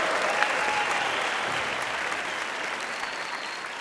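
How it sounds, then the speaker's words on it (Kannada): A live audience at a comedy show grand finale claps loudly and steadily in welcome of performers, a dense, continuous wash of applause with no voices over it. "ಜೋರಾದ ಚಪ್ಪಾಳೆಯೊಂದಿಗೆ ಸ್ವಾಗತಿಸಿ"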